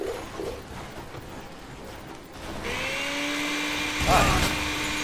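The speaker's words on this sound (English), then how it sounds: "Oh look, my blender came back." A blender whirs steadily in the video game Dead Rising, rising in pitch with a whining motor tone and a brief louder burst, while a player talks over it.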